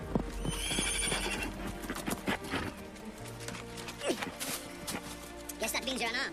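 Horse neighing with clip-clopping hooves amid a busy, music-laden scene, the whinny standing out near the start and hoof beats recurring throughout, with voices talking over parts of it.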